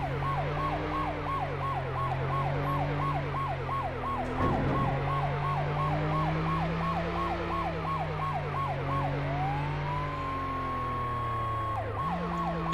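An emergency vehicle siren from the police, fire and EMS game Flashing Lights yelps rapidly and continuously, shifting tone partway through, over a steady low engine hum with a brief thud midway.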